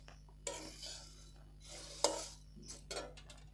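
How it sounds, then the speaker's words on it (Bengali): Puffed rice mixed with chanachur is tossed and stirred by hand, producing a few soft, separate rustling scrapes and a light clink, quiet and close. "চানাচুরটা দেবো, দিয়ে আর একটু নেড়ে চেড়ে নামিয়ে নেব।"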